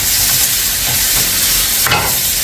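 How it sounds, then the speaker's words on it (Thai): Pork belly is stir-fried with five-spice powder in a hot pan over high heat, producing a loud, dense sizzle and hiss close up, with scraping stirs and a sharp burst near the end, and no speech. "คั่วให้หอมแบบนี้ค่ะ"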